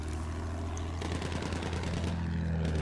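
Dense bursts of Battlefield 1 gunfire erupt around an aircraft in flight, rapid machine-gun rattle layered over a steady engine drone, growing louder and busier after the first second.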